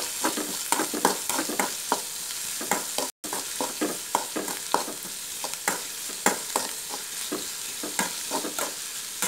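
Drumstick leaf thoran with shallots, green chili and garlic stirred in a pan, with rhythmic spoon scrapes and taps at a steady pace over a continuous frying sizzle, close and clear, with a brief silent break.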